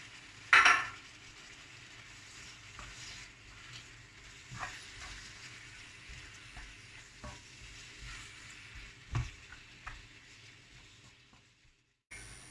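Tomatoes tipped into a pan of frying peppers and onions, giving a soft steady sizzle with occasional stirring clinks and a few sharp utensil knocks against the pan, no voices.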